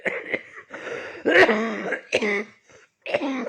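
A person coughs and clears their throat several times in rough, uneven bursts, close to the listener, with short pauses between.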